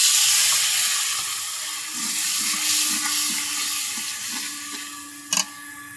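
Taro stolon curry with salt and gravy sizzling and bubbling steadily in a pan on a village kitchen stove, a soft continuous simmer with a brief clink near the end.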